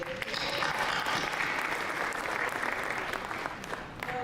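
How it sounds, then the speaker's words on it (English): A large audience at a prosecution authority event applauds in a steady, dense burst of many hands clapping, loud and continuous for several seconds. "So another round of applause."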